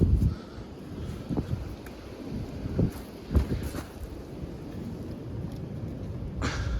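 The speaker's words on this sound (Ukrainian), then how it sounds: "тому що вітер дуже сильний" Strong wind buffets the microphone in rough, rumbling gusts outdoors by a Veles Agro KPG 4.5 cultivator with shaking stands, a few louder thumps scattered throughout and no voices.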